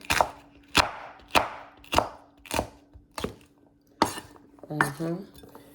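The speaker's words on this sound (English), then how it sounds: "cutting the yellow bell pepper" A knife chops a yellow bell pepper on a cutting board with about eight sharp, close strikes spaced unevenly around half a second apart, ending with a brief squeaky tone.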